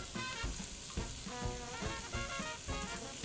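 Julienned onions sauté in a pan with a soft, continuous sizzle, broken by a regular rhythm of stirring or scraping strokes, fairly quiet and with no voice over it.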